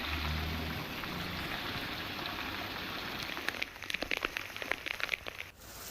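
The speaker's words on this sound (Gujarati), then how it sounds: "ધોધમાર વરસાદ પડ્યો છે।" Heavy monsoon rain pours down steadily in Gujarat as a dense, close wash of noise, with sharper individual drops pattering through it toward the end.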